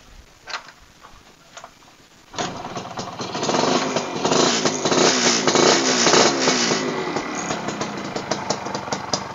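An old Indonesian motorcycle with Lumajang plates sputters briefly, then its engine catches and settles into a loud, steady idle with a fast ticking rhythm, heard up close with no talking.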